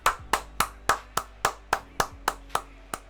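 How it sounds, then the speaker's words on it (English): One person clapping hands, about eleven sharp, evenly spaced claps in a steady rhythm, close and clear with no talk over them. "That's me applauding that match."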